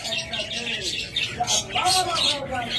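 Pet birds such as lovebirds, budgerigars or cockatiels chirp in a cage in short, high, repeated calls, fairly close, mixed with a voice talking over them.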